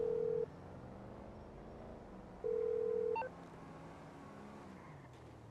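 A telephone rings unanswered, two flat electronic ring tones with a long gap of quiet line noise between them.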